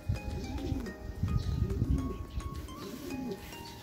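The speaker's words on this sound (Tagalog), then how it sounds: "Mga dumadaan na mga kalapatids." Racing pigeons on a training toss pass by in a group, their low cooing and wing sounds blending with outdoor ambience while someone speaks over them.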